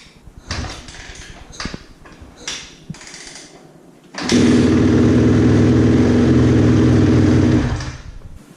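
A Yamaha YZ250F dirt bike with a freshly changed spark plug kicks over and fires up, a loud steady idle roar for a few seconds after some clunks and kick attempts, then cutting out.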